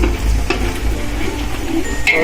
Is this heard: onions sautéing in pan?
yes